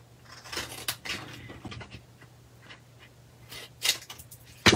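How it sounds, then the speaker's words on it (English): Scissors snip through paper for a gift card holder in a few quiet, irregular cuts, close by, with soft handling noise between them. "And you're going to cut to the right and then to the left."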